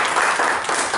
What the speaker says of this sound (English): raise our energy levels by just giving a huge round of applause for everybody who was here till the last session.